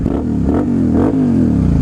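Close, loud motorcycle engine being revved, the tone climbing and falling twice in quick throttle blips before settling into a steady high drone.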